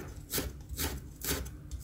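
Fresh ginger being minced with a knife on a board, four soft rhythmic chopping strokes at a steady pace, close and fairly quiet.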